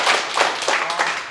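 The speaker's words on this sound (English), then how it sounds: "Let's do a big round of applause" Brief burst of hand clapping from a small crowd closing out a Brazilian jiu-jitsu heel hook and leg lock session with Max Hanson, dense and steady throughout.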